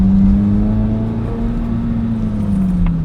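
A 2026 Corvette Z06 3LZ driving during a brake test, its engine a loud steady hum close by with little change in pitch, alone without talk.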